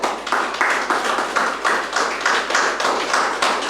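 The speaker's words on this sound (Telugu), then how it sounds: "పవన్ గారికి ఒకసారి గట్టి క్లాప్ చేద్దాం" An audience at a Gurusthan gathering claps in steady unison for Pavan, with sharp, evenly spaced rhythmic bursts at a brisk pace and no talking.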